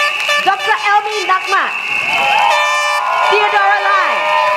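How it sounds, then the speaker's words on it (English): A rally crowd for the PAP Sengkang team cheers and claps, with loud horn blasts and whistle-like tones sounding over the noise as an amplified voice speaks. "give a warm round of applause to welcome the PAP Sengkang team"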